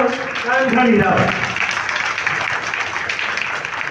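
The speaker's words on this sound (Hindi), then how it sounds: "आपकी भरपूर तालियों में" Audience applause at a public gathering rises after a brief spoken introduction, becoming a steady, moderately loud wash of clapping that carries on to the end.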